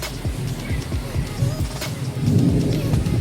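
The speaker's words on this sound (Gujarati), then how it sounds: "પવન ઘણી જોરથી ફૂંકાઈ રહ્યો છે." Strong wind roars through neem trees in a gusty rainstorm, a steady broad rushing that swells louder toward the end, with low rumbling underneath.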